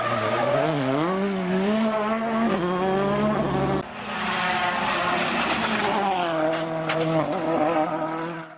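Volkswagen Polo R WRC rally car engine revving hard and loud, pitch climbing and dropping with gear changes, a brief break and a sharp crackle before another surge, with tire squeal mixed in.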